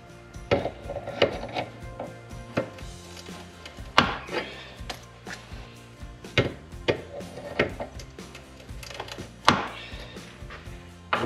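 A PTFE fuel or oil hose fitting nut is pushed in and turned onto its threads, giving sparse sharp metallic clicks and taps with quiet handling noise between them.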